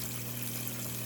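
Water slowly fills a tilapia fish tank as a steady, soft rushing trickle with a low pump-like hum beneath, continuous and unchanging for the whole second.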